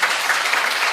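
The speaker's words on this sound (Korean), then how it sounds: "박수로 환영해 주시기 바랍니다" A church congregation claps during a pastors' inauguration service, dense, even applause sustained for a second at a loud, close level.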